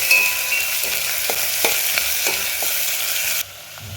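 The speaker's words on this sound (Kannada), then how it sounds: "ಇದು ನೋಡಿರಿ ಹಾಕೊಳ್ಳೋದು ಉಳ್ಳಾಗಡ್ಡಿ ಸಣ್ಣ ಕಟ್ ಮಾಡ್ಕೊಂಡು ಅದನ್ನು ಹಾಕೋತೀನಿ." Chopped onions with curry leaves frying in a pan for potato sagu, a steady close sizzle with a few soft stirring scrapes, dropping quieter near the end.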